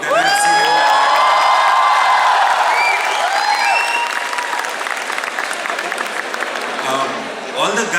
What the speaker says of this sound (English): All the guys who clapped at that